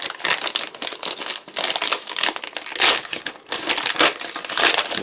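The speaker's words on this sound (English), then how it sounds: "We've seen them before now, they're just a green plastic bag. Get this open and see what we have inside." A green plastic Spanish military combat ration bag is torn and opened by hand, producing continuous loud, close crinkling and crumpling of the plastic for several seconds, with no voices heard.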